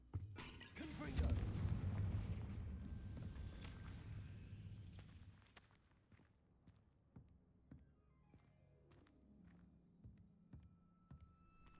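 A Confringo spell blast in Hogwarts Legacy goes off as a deep booming explosion that swells and slowly fades, followed by quieter scattered in-game clicks and ambient sounds.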